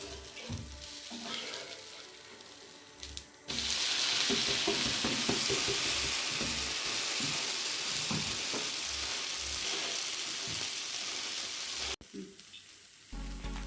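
Millet dosa frying in sesame oil on a hot pan, a steady loud sizzle that swells after a quieter start with faint clinks, then drops away briefly near the end.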